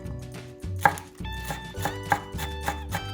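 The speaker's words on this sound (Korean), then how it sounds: "이것도 곱게 이렇게 잘라 주셔요." Cheongyang chili peppers are finely chopped with a knife on a cutting board, a close series of quick, crisp knife taps in an uneven rhythm, with no talk.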